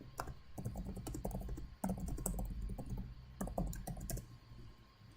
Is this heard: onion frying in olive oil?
no